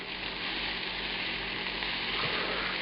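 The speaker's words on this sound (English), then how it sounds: "I'm adding that butter finally now. This is that 30 grams, about an ounce of butter." About an ounce of butter sizzling steadily in a hot pan alongside lobster, a dense continuous close-up fry with no break and no talking.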